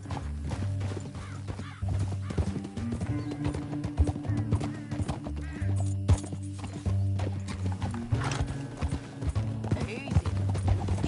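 Horse hooves clip-clop at a steady riding pace in the Red Dead Redemption II video game, with occasional whinnies, over a continuous music score and bursts of speech.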